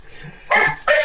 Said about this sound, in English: This is the one that's barking is an Aussie Shepherd mix